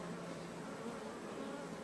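Honeybees swarming around an open hive during an inspection, a dense, steady buzzing drone, close and continuous without any talk.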